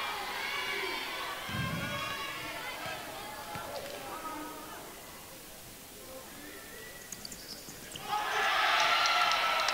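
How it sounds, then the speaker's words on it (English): A round of applause from the bench and the crowd breaks out late at a 2019 high school boys basketball game between LHS and Chelmsford, swelling into a dense clapping roar after a stretch of gym chatter and voices. "Mora gets a big round of applause from the bench and the crowd"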